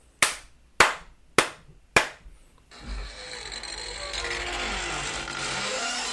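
Four sharp, loud hand claps ring out at an even pace in a quiet room, each one decaying quickly. A dense, steady wash of noise follows them and carries on to the end.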